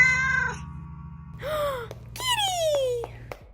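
A tuxedo cat meows in a few drawn-out, rising and falling wails, close and clear over a low steady hum.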